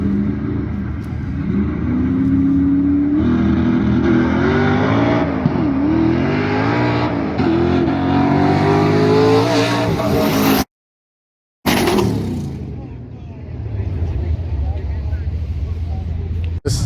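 Engines roaring in a no prep drag race final for street-driven trucks, a loud sustained rumble rising and falling with revs, cutting out for a moment before resuming.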